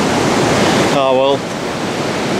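Incoming tide water washes over slippery seaside rocks in a loud, steady rush that fills the whole clip. A voice speaks briefly over the surf partway through.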